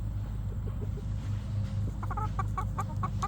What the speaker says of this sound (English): Here's one of our silver-laced Polish hens.